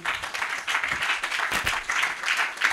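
A church congregation applauds the Lord Jesus Christ during a French Bible teaching, producing dense, steady clapping that fills the room and continues without a break.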